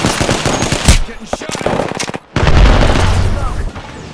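Rapid automatic gunfire in the video game Apex Legends, loud and close, firing in dense bursts with sharp individual shots, a brief gap, then another sustained heavy volley.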